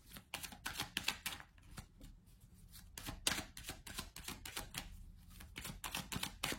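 Cards being shuffled for a six-card tarot-style draw, a rapid, steady run of crisp flicking riffles, fairly faint and close, with no talking.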